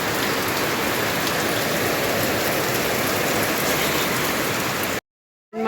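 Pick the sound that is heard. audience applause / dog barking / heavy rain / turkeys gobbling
heavy rain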